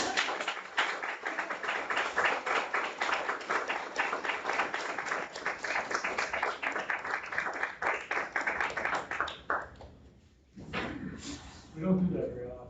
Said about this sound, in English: Could I just ask if we give our staff a standing ovation?